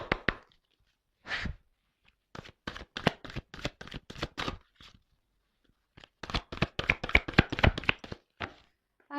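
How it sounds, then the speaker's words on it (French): Oversized oracle cards are shuffled by hand in loose bursts of rapid papery riffling and tapping, with two clusters separated by short pauses, close and fairly quiet, with no talking. "Ah, les cartes, elles sont très grandes. Elles font presque la taille de ma main. Alors, c'est pas simple des fois pour les secouer"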